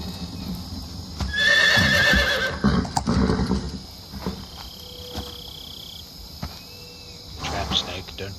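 A horse whinnies loudly in the Metal Gear Solid 3 jungle, over chirping crickets and frogs, with hoof clip-clops and a second shorter neigh near the end.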